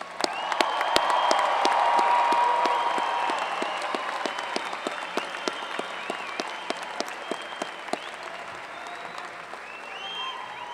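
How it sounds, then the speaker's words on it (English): Graduates at a college of engineering convocation ceremony break into sustained applause, a dense wash of many hands clapping in a large hall, swelling early then thinning to scattered claps. "Give yourselves another hearty shout and victory applause"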